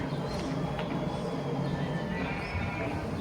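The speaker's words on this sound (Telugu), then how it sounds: "మాతో పాటు గుర్రం కూడా వచ్చింది" A horse walking with a flock of sheep outdoors whinnies faintly amid steady rustling background noise, with no talk.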